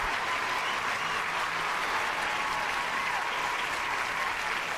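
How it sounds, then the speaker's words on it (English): Steady applause from a crowd continues without pause, dense clapping held at an even level throughout. "I'm going to give y'all a round of applause."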